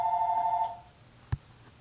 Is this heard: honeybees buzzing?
no